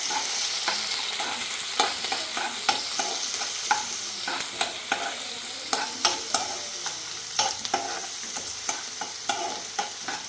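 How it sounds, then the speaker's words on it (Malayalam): Garlic and shallots fry in a pan with a constant sizzle, broken by a rhythmic series of stirring scrapes and clicks from a spoon, close up and with no voices. "വെളുത്തുള്ളി, ചുവന്നുള്ളി എല്ലാം കൂടെ ഇട്ടിട്ട് ഇതിനകത്ത് ഇറക്കി വെക്കാം."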